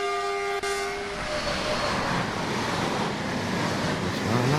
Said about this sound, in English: I love the sound of the coaches whizzing by.